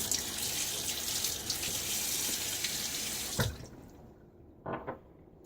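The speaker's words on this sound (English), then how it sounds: "Gotta rinse." A razor is rinsed under a running bathroom tap. Water pours steadily and close for about three seconds, then it cuts off and is followed by a short splash or rinse.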